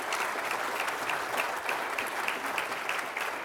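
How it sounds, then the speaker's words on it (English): Conference panelists at a public sector summit receive applause, a steady, dense clapping from an audience that holds evenly throughout without voices on top. "Can I have a round of applause for our panelists?"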